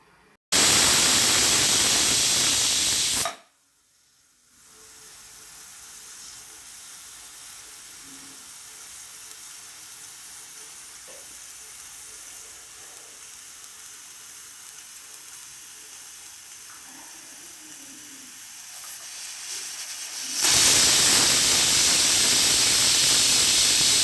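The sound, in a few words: pressure cooker whistling steam while cooking chicken curry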